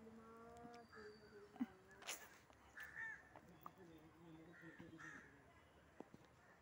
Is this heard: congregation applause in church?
no